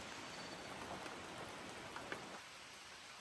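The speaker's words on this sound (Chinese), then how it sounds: "现在这雨依然没有要停的意思。 其实山里面一直在哗哗的下着啊" Heavy rain pours steadily in the mountains, a dense, even hiss of drops on surfaces with a few louder nearby splats, easing slightly toward the end.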